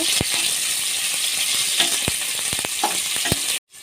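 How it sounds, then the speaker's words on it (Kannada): Two green chillies fry in a pan for soybean pulao, giving a bright, steady sizzle dotted with sharp pops and spatula taps before it cuts off abruptly near the end. "ಹಸಿಮೆಣಸಿಕಾಯಿ ಎರಡು ಚೆನ್ನಾಗಿ ಫ್ರೈ ಆಗಬೇಕು"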